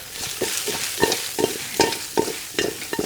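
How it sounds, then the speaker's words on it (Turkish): Lamb shanks and vegetables stirred in a pot, with rhythmic scraping strokes about every third of a second over a continuous frying sizzle, close up. "Şimdi incikler atıyoruz. İçini şöyle güzel bir şekilde atıyoruz"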